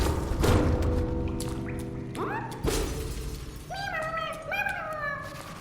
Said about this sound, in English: I hear a grub here.